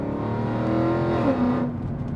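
Mercedes CLK63 AMG Black Series V8 revving close up from inside the car, a loud steady engine drone rising slightly in pitch, then easing off near the end, with no talking.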